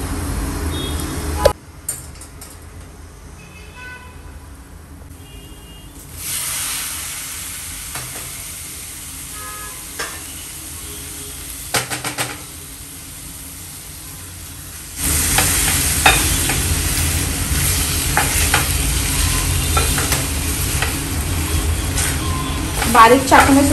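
Onion frying in a pan with turmeric and salt, a steady hiss and scrape of stirring that grows louder partway through, with someone talking over it.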